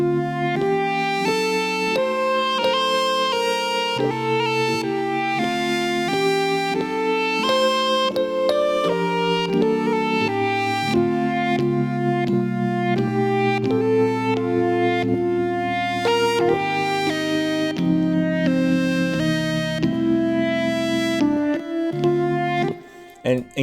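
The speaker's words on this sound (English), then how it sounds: "when you put the lead on top of the keys," Keyboard chords with a Native Instruments Monarch synth lead layered on top, a dense, continuous run of sustained harmonic notes and moving melody lines for over twenty seconds, steady and loud, with no voices.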